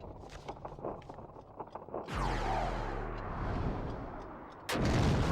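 The Trickmaster boss in the Kingdom Hearts video game shooting fireballs: a run of quick popping shots, then a long sweeping whoosh and a sudden loud burst at the end.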